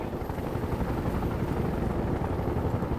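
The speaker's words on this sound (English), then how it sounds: "Enemy scout helicopter spotted." Enemy scout helicopter in a military video game, its steady rotor chop and engine drone continuous and fairly loud throughout, with no voices.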